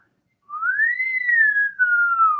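A person whistles a single sustained, wavering tone that rises then slowly falls, clear and close with no talk, starting after a short silence and holding for about two seconds.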